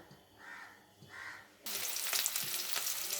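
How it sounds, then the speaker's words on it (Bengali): Peeled potatoes drop into hot white oil in a wok and start frying, a sudden loud sizzle that bursts in after a quiet start and keeps crackling to the end. "তেল গরম হয়ে যাওয়ার পরে আমি আলুগুলোকে দিয়ে দেব।"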